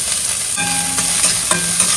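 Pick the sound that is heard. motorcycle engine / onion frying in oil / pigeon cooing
onion frying in oil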